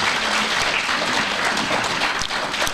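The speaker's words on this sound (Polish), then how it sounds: "Gorące brawa!" Warm applause from a concert audience, dense and steady clapping throughout, close and fairly loud.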